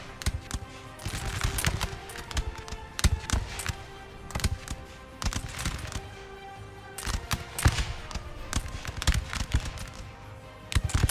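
Prussian infantry musket volleys in Napoleon Total War crackle nonstop across a distant battlefield, dense irregular bursts of popping shots rising and falling over an eleven-second stretch.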